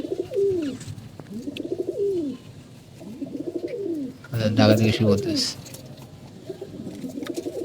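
Domestic pigeons coo in repeated rolling phrases close by, with someone talking over them and a louder burst of mixed noise midway.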